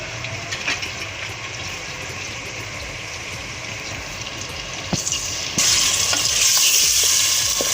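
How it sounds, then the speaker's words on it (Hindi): Beef karahi fries over a full flame, a loud, dense, continuous sizzle with a few stirring knocks that swells into a harsher hiss near the end. "फुल आंच कर देंगे थोड़ी देर, चंद मिनट तकरीबन 2 से 5 मिनट तक हम इसकी बुनाई करेंगे।"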